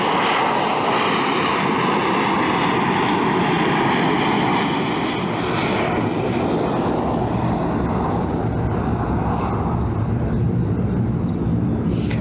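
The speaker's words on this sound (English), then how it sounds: "This GR7 Harrier is a very different machine indeed from the earlier Harrier Mark 1s." A Harrier GR7 jump jet roars continuously throughout a short-takeoff and vertical-landing air display, a loud, broad engine noise that slowly shifts in pitch as the aircraft moves.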